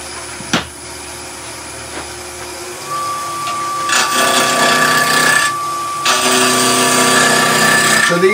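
A wood lathe spins as a quarter inch gouge turns a stem from scrap wood, with a steady motor whine and bursts of loud, close hissing cutting noise.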